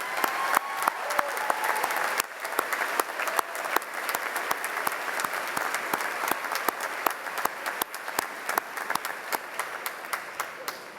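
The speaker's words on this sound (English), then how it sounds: "Let's give a round of applause to our faculty who helped you along the way" An audience at a Millersville University graduate commencement applauds in a sustained, dense burst of clapping from many hands, filling the hall evenly throughout.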